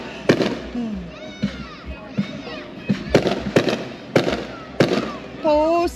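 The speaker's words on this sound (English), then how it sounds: "Fireworks so lit you can taste it." Close fireworks at a Morley car show and semi parade: several loud bangs spaced about a second apart, with crackling tails and whistles, over an excited crowd talking and cheering.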